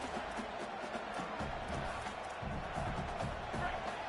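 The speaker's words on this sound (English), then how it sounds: "The roar of the crowd trying to fuel this defense to keep them pinned in their own end." Continuous dense roar of a stadium crowd at a football game, loud and sustained throughout with no break, as fans try to push the defense on.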